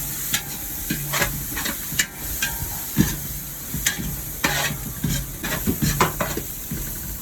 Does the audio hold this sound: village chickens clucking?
no